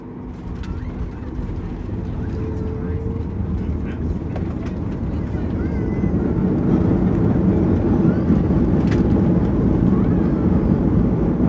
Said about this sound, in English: enjoy the landing into Melbourne